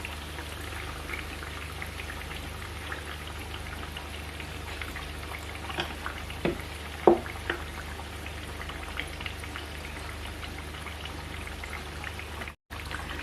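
Akara bean fritters frying in hot oil, a steady dense crackle and patter of bubbling with a few louder pops near the middle, close and continuous throughout.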